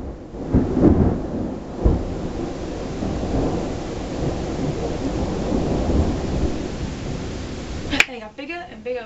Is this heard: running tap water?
no